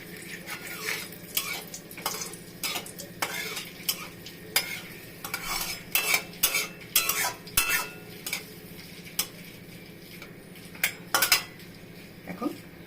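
Dry red chillies temper in hot oil in a pan, a light sizzle beneath loud, repeated clatter of a utensil scraping and knocking against the metal.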